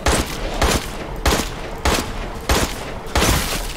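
Gunfire in the survival horror game Resident Evil Village, five or six heavy, booming shots spaced roughly every half second, each with a short ringing tail, loud and close with no voices.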